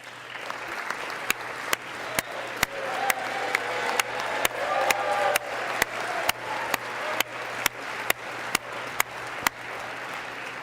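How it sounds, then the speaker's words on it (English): A crowd applauds steadily throughout a vice-presidential vote count, with sharp, loud individual claps cracking out at a regular beat above the general applause. "Who's clapping like that?"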